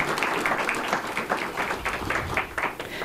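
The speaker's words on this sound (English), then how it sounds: "Give yourselves a round of applause." Sustained applause from a crowd at a historical society meeting, many hands clapping in a thick, even roar with faint rhythmic pulses, loud and continuous throughout.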